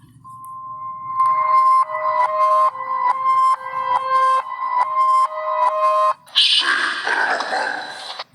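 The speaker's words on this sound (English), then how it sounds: "So here's the SP white noise box." A spirit box app, the 2016 Spain Paranormal SP White Noise Box, scans with a steady electronic beeping tone in regular pulses, then shifts abruptly into a burst of harsh static noise near the end.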